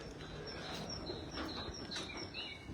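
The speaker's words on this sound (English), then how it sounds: "and the birds are singing." Birds sing faintly around a farm, with scattered chirps and coos over a steady wash of outdoor background noise.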